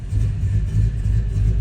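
1970 Dodge Challenger 440 Six Pack V8 just after a cold start: a loud, deep, steady idle rumble up close, slightly lumpy, with no voices.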